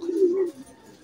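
Pigeon coo heard close and brief, a single low murmuring call of under a second that fades out quickly.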